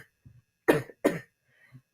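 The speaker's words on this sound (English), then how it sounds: "I still got the lagging cough, and it's annoying" A person gives two sharp, close coughs in quick succession, with faint throat sounds before and after, and no talk.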